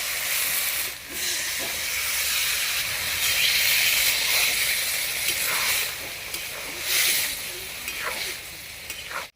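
Water poured into a hot pan of fried lentil dumplings, prawns and drumstick flowers throws up a loud, close hiss of steam and sizzling that swells and fades in waves, with occasional stirring.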